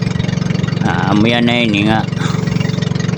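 A boat engine at a small harbour pier idles with a steady throbbing pulse, loud and close, while someone speaks over it partway through.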